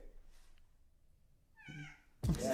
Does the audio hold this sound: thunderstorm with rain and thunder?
no